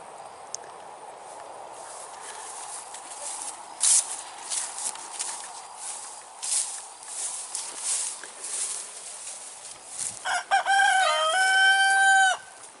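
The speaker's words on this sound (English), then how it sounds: "hey, there's a chicken over there." Chickens cluck and a rooster crows on a farm near the coops, with scattered clucks over steady outdoor background and a loud, drawn-out crow rising near the end.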